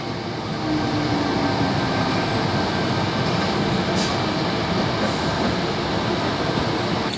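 A Sydney commuter train rumbles loudly and steadily at a station platform, a continuous broadband roar with faint brief squeaks, and no voices over it.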